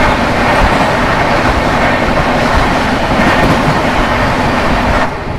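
The Hazrat Nizamuddin–Rani Kamlapati Vande Bharat Express crossing on the line: a loud, continuous rail rumble with rhythmic wheel clatter that holds steady, then eases off slightly at the end.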